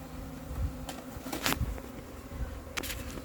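A dense swarm of honey bees buzzes loudly and steadily up close, a thick droning hum with brief louder bursts as individual bees fly past.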